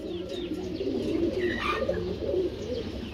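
Pigeons coo steadily on a pigeon farm, a close, soft, continuous low burbling with a few faint chirps over it and no talking.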